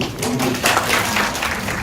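An audience at a Korean YouTuber panel event claps for a departing representative, a short burst of moderate applause with scattered claps, mixed with some background voices.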